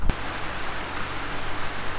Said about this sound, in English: a bit of rain coming down now